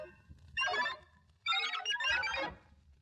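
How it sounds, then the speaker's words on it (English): A computer page-turn signal on a vintage Disney TRON read-along record, sounding as three quick bright electronic bursts with a short gap after the first, alone over faint background hiss. "You will know it is time to turn the page when you hear the computer sound like this."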